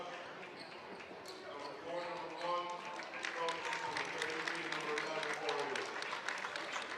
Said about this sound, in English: getting a little round of applause, heading to the bench